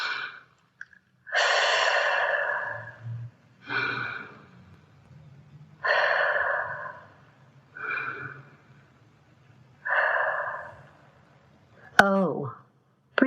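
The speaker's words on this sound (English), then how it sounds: "T, take 3 deeper breaths." Three slow, deep breaths taken during a guided mindfulness exercise, each a long airy inhale and exhale, close and clear, with a few quiet pauses and a brief spoken moment near the end.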